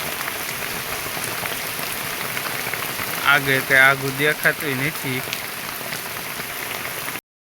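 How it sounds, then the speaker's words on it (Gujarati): Heavy rain pours straight down on open farm fields with no wind, a dense, even hiss throughout, briefly joined by a voice speaking midway. "નહીં પવન કોઈ વસ્તુ નથી, ખાલી વરસાદ છે"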